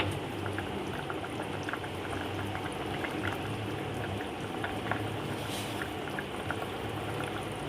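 Potato curry simmering in a covered pot after ten minutes of cooking, a thick bubbling boil that churns steadily and close throughout, with no voices.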